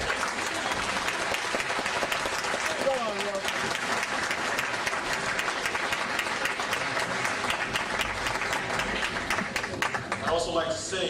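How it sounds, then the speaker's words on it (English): A hall audience claps and cheers in sustained, dense applause at a sovereign-citizen gathering, loud and continuous throughout, with crowd voices mixed in beneath the clapping. "I'd first like to ask you to give them a round of applause for being here."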